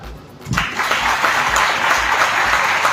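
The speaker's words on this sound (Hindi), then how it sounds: "बच्चों के लिए ताली" Audience applause for children at a Bihar public event with the education minister, breaking out after a brief quiet moment and then holding steady as dense, continuous clapping.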